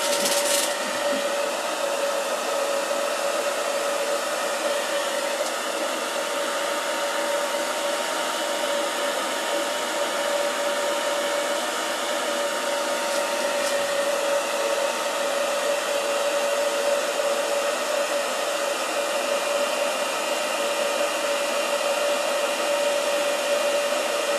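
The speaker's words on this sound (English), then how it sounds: "Once I'm done blow drying this." Hair dryer blow drying wet Mod Podge on a craft piece, a steady, loud airy roar with a high whine running unchanged throughout, close up with no voices.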